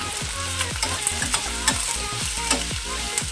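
Onions fry for a dam aloo gravy while a utensil stirs them in a quick steady rhythm, repeated scraping strokes over a loud, continuous close sizzle.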